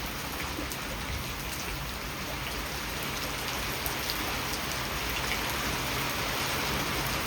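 Heavy rain pours down in a dense, steady roar, close and unbroken for the whole stretch, with no voices over it.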